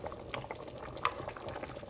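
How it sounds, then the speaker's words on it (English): Rice with pigeon peas (arroz con gandules) boiling in a pot, with close, steady bubbling and popping and an occasional louder burst, no voices over it. "And all of a sudden we're not boiling as much."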